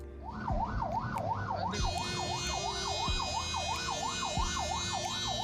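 An ambulance siren wails in fast repeating up-and-down cycles, loud and close, over steady traffic noise and occasional low thumps.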